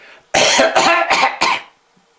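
Four quick, forceful coughs in a row, close and loud, each a short harsh burst with brief gaps between, then quiet.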